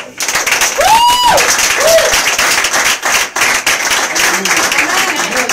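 A church congregation claps and cheers loudly and continuously in acclaim for Jesus during a French-language service, with a voice calling out over the dense applause.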